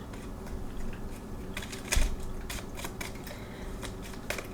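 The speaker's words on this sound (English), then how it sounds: "we're going to go ahead and shuffle our deck today" A deck of tarot cards is shuffled close by, with soft, crisp flicks and irregular clicks at a quiet level and no voices.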